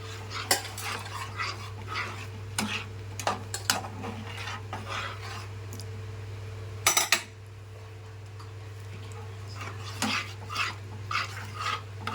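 A spoon scrapes and clinks through a pressure-cooked mix of red gooseberries and kanthari chilies for a moru curry, in irregular close strokes over a low steady hum, with a quieter pause midway.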